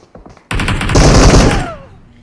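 A burst of MG-AMR machine gun fire in a video game: rapid, loud, close shots that stream for about a second and then fade, with a faint voice just before.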